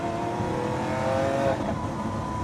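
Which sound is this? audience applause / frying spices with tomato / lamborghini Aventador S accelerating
lamborghini Aventador S accelerating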